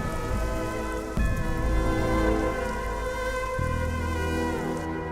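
Steady rain falls and patters on a surface, a dense continuous hiss with a low rumble underneath, no voices.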